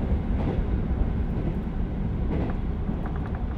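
A 383 series limited express train, the Shinano No. 1 on the Chuo Main Line, runs steadily along the rails with a continuous low rumble and rolling wheel noise, without voices.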